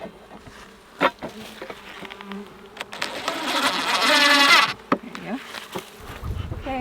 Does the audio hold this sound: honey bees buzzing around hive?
yes